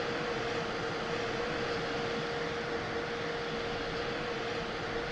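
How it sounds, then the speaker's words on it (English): An F-15E Strike Eagle's jet engine in DCS World runs at startup as a steady, even cockpit roar with a thin constant whine on top. No voices are heard. "Now move the right throttle to the idle position to start pumping fuel to the engine."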